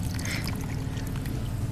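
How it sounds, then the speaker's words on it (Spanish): Water pours over ginger rhizomes set in a pot, a continuous splashing gurgle with no pauses. "Se los cubrimos completamente con agua"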